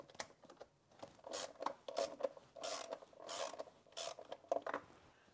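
A ratchet loosens rocker cover bolts on a Renault Clio, clicking and rasping in short close bursts separated by brief pauses.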